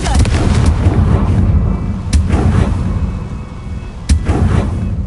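The Confringo blasting spell from the Hogwarts Legacy video game goes off in loud, booming bursts. Two sharp cracks stand out over a dense rumbling roar, close and heavy throughout.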